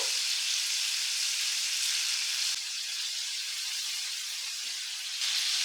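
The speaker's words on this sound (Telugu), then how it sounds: "అప్పుడు ఈ విధంగా మంచిగా ఫ్రై అవుతుంది చికెన్" Chicken pieces fry in a pan of hot oil with a steady, bright sizzle that carries on alone without a break, dipping only slightly for a moment partway through.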